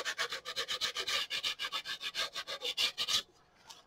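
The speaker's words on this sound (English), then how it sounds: "sometimes I'll just use the sandpaper to kind of clean up the edges" Sandpaper is rubbed along the edges of a journal board, with rapid rhythmic back-and-forth rasping strokes that are close and fairly loud, then stop abruptly, leaving near quiet.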